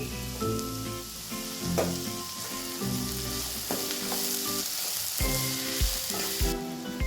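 Chopped tomato and curry leaves fry in hot oil in a pan for chana masala, a dense continuous sizzle up close, with a utensil stirring and knocking against the pan now and then.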